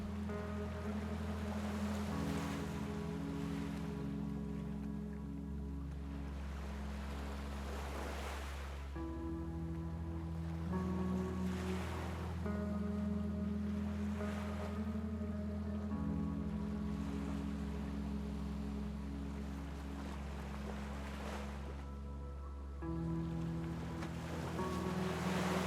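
Sea waves roll in and wash out in slow repeating surges, a steady, moderately loud surf with a low droning hum underneath, no voices.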